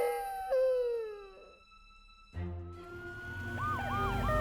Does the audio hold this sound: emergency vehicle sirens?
yes